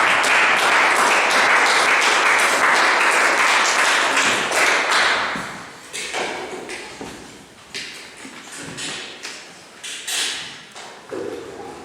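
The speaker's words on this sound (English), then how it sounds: "Let us welcome him on the stage with a big round of applause" A big round of applause welcomes a scholastic orator onto the stage at a Jesuit training event, dense clapping at first, then thinning into scattered, uneven claps toward the end.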